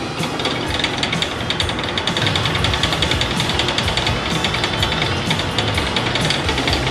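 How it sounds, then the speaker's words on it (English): A metal lathe runs at rough turning speed, a loud, dense mechanical clatter and grinding roar holding steady and close with a fast rattling pulse throughout. "carefully and slowly pull up the start lever until the machine starts"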